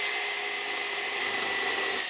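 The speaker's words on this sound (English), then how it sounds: "Same size drill bit without the drill stop on it" A steady high-pitched whine of a drill bit cutting through sheet metal without a drill stop, continuous and fairly loud with no pauses, ending with a slight change in pitch.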